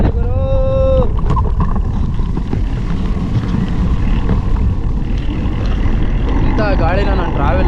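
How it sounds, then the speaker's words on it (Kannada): Strong headwind buffets the microphone on a cycling trip from Rameswaram toward Kanyakumari, a loud, constant low roar that fills the whole stretch, with a voice heard briefly at the start and again near the end. "ಇಂಥ ಗಾಳಿನ ನಾನು ಟ್ರಾವೆಲಲ್ಲಿ ಯಾವತ್ತೂ ಕೂಡ ನೋಡಿರಲಿಲ್ಲ ಗುರು"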